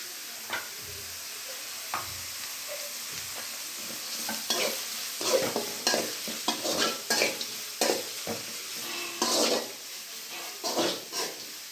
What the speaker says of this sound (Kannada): ಎಣ್ಣೆ ಜೊತೆನೆ ಈರುಳ್ಳಿ ಹಾಗೆ ಕೋಸು ಮೆಣಸಿನ್ಕಾಯಿ ಎಲ್ಲ ಹಾಕೋದ್ರಿಂದ ಬೇಗ ಫ್ರೈ ಆಗುತ್ತೆ